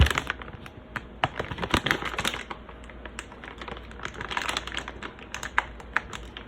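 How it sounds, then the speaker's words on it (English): A bag of chicken nuggets being opened, giving a quick series of close crinkly plastic clicks and rustles in an irregular rhythm, fairly quiet with no talking. "let's see if we can open up the bag"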